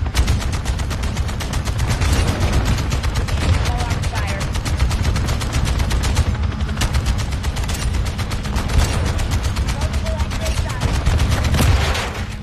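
Sustained, loud rapid gunfire from a chopper gunner killstreak in a first-person shooter video game, dense bursts and booms continuing the whole time with players talking over it.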